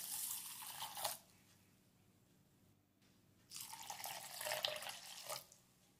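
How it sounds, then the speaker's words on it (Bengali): Water poured from a cup into a bowl of urad dal, a splashing rush lasting about a second, a quiet pause, then a second longer pour, close and moderately loud. "এরপর এই বিউলির ডালের মধ্যে আমি 3 কাপ জল দিয়ে দিচ্ছি।"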